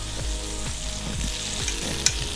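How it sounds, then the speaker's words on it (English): Food sizzles steadily in a hot frying pan, with occasional scraping and stirring clatter and a sharp tap near the end. "Get some sizzle in there."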